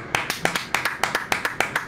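A single pair of hands claps in a quick, steady rhythm, about a dozen crisp claps close to the microphone.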